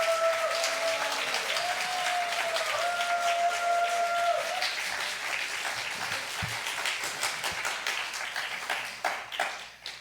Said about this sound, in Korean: 여러분 박수 한번 더 해주시고